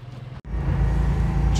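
A 3.2-litre Porsche 911 with a freshly rebuilt top end cruises gently on a road, its low engine drone and road rumble steady and close after a brief dropout at the start.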